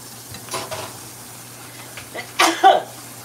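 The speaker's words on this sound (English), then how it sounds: "every time I do black pepper, it makes me sneeze." A sneeze set off by black pepper at a stove while spaghetti sauce simmers, two quick loud bursts near the end following soft stirring and faint kitchen sounds over a steady low hum.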